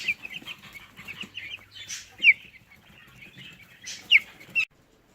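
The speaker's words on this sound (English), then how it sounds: "Yes, that is a chicken in a sink." A hen clucks and squawks while being washed in a kitchen sink ahead of a poultry sale, giving soft ongoing clucks broken by a few loud, sharp squawks, close and with no talk.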